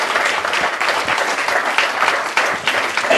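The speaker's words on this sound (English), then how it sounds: "Give it up for Brother Umar. Give him a big round of applause." Sustained applause from an audience honoring Brother Umar, a dense steady wash of many hands clapping at full volume throughout.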